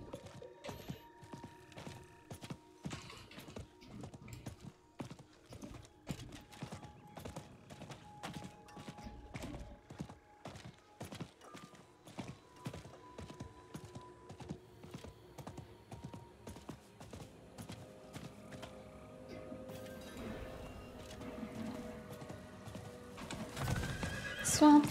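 Horse hooves clip-clop in a steady repeated rhythm with occasional neighs and whinnies, mounted travel in the Diablo IV video game, fairly close and clear, with game music and light clicks underneath.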